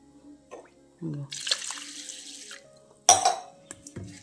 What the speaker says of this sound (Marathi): आता 2 पाण्याने धुते आणि मग परत आहे ना भिजवून ठेवते